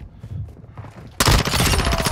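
An SMG opens fire in a video game: after a quiet stretch of faint movement noise, a loud, sudden sustained burst of rapid automatic shots runs to the end.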